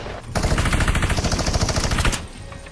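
Sustained rapid SMG fire in a video game, a loud continuous burst lasting about two seconds before cutting off.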